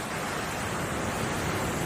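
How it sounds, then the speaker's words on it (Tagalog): A small stream flows beneath a little bridge on the grounds of an abandoned lakeside mansion, giving a constant broadband rushing hiss at a steady, fairly soft level with no other sounds. "Parang isang agos ng tubig ito."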